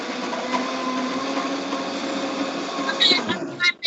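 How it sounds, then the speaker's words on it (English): A kitchen blender whirs through a thick tahini mixture with a steady, close motor drone for a few seconds, then strains and changes pitch near the end. "And now we're going to blend this"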